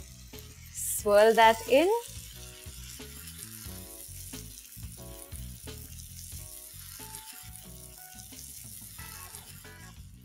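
Tomato puree sizzles as it hits a frying gravy of browned ginger, garlic and onions, a steady hiss with soft stirring clinks, and a voice speaks briefly near the start.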